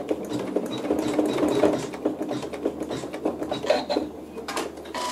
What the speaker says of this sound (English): so I'll go ahead and stitch my match point.